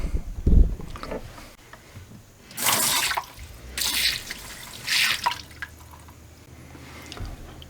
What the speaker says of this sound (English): it's leaking in the sink, right? So let me wash this out.